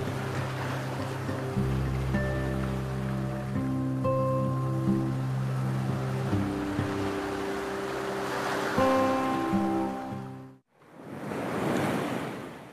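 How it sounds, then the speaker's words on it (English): Sea surf rolls against sand dunes, a low steady wash with a brief dip near the end before the surge returns, mixed with tonal hums and some wind noise. "The sound of the sea against the sand dunes."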